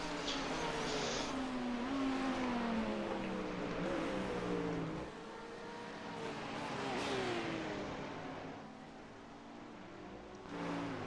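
GT3 race cars lap in a racing video game, their engines revving and shifting continuously with rising and falling pitch as cars pass, a steady mechanical drone with brief tire squeal.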